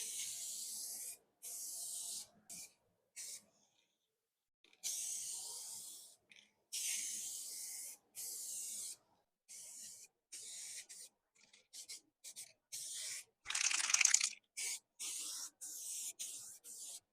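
A small 5oz spray can puts coats of paint on an automotive part in repeated short hissing bursts of about a second each, close and fairly soft, separated by brief silences.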